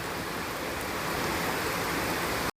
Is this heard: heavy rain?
yes